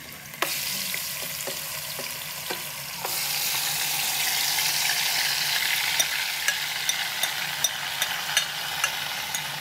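Mutton biryani masala with garam masala, red and green chillies frying in a pot, a steady sizzling hiss that swells louder partway through, with spoon clinks against the pot scattered over it.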